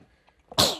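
A single sharp, close sneeze bursts out after a brief intake of breath, loud and then quickly fading.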